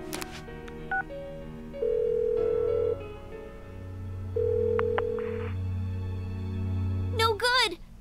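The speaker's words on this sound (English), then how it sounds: "Give her another call." Phone keypad tones beep out a number in Persona 4 Golden, followed by steady dial and ringing tones that play alone before a short voiced sound at the end.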